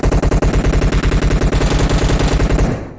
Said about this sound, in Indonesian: Gue nembak gak kena tetep.